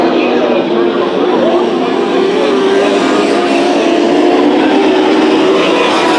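Race cars on the dirt oval at Bakersfield Speedway roar in a steady, loud, continuous engine drone as several cars battle in a heat race, with no break in the noise.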